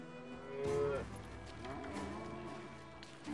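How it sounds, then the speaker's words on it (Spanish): A cow in the Western video game Call of Juarez Gunslinger gives a single, fairly near moo with a drawn-out lowing tone, followed by soft game ambience and faint movement sounds. "Sí, eres una vaca."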